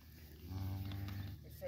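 An Angus cow moos once in a long, low, steady call from nearby on a ranch, with faint background sound around it.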